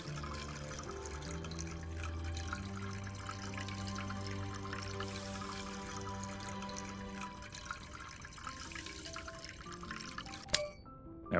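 Liquid chocolate pours into a mold in Chocolate Factory Simulator, a steady watery trickle and splash running under game music for about ten seconds before a short clatter at the end.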